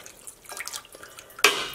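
Plain tap water pours into a dye pot: faint trickling and drips at first, then a sudden louder splash as the pour hits the pot and keeps running.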